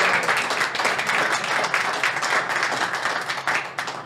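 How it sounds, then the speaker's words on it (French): An arena-style audience applauds at a Quebec hockey talk-show taping, dense continuous clapping from many hands lasting several seconds, loud and close, fading slightly near the end. "Vous avez le droit d'applaudir."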